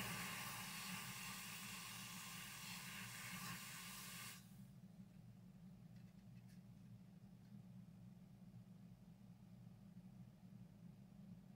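Aerosol freeze spray hisses onto a component inside a vintage Robertson Audio Forty Ten power amplifier with a noisy channel, a loud steady spray lasting about four seconds before cutting off to a quieter background hum.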